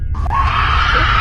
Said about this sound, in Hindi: तभी एक बार फिर से बाहर से चीखने चिल्लाने की आवाज आने लगती है।